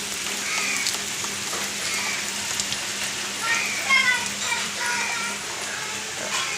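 Rain starts to come down outdoors as a dense, even hiss of drops that covers the whole stretch at moderate loudness, with a voice heard faintly under it.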